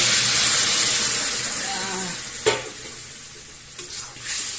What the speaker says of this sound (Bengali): মশলাটা ভাজা হয়ে গেছে, এখন দিয়ে দেবো জল।